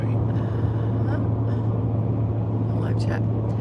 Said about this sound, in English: Big old diesel trucks flying by us